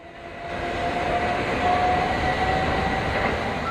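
A DC third-rail electric multiple unit, a Class 319 bound for Brighton, runs through South Croydon with a steady, loud rolling roar and a faint thin whine riding on top, continuous throughout.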